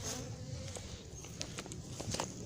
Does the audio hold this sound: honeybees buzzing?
yes